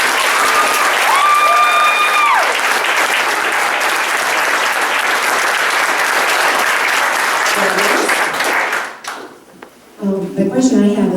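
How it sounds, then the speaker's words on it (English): Sustained audience applause for a finalist after a senior-project speech on designer babies, a loud, steady wash of clapping from a crowd lasting several seconds before it thins out and a voice begins talking. "let's give Jennie another round of applause"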